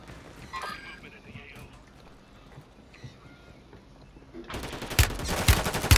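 Gunfire in a Call of Duty match erupts near the end as loud, dense bursts of shots, following quieter game ambience.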